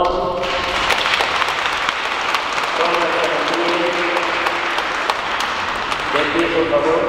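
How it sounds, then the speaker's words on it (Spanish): Wedding-mass guests in a church applaud together, a steady crowd of claps filling the space at close range, with voices and some tonal sound running underneath. "Muy bien, les damos un aplauso."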